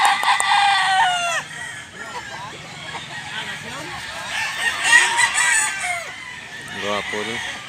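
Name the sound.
rooster crowing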